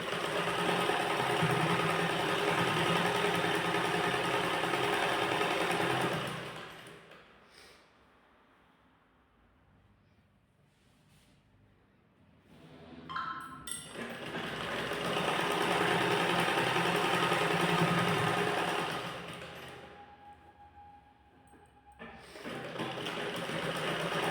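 A sewing machine stitching a ladies' trouser seam runs in two long, steady whirring bursts close by, separated by a quiet pause, then starts up again at the end.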